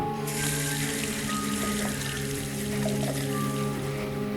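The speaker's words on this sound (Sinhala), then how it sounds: "මේකට වතුර ටිකක් පුරව ගමු අපි." In the PSYROOM horror video game, a mug fills with water from a tap, a continuous close rushing stream under steady tonal background music, with no talk.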